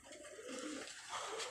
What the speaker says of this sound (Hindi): उनके मोतियों वाले कबूतरों का एक और प्यार आपको दिखा रहे हैं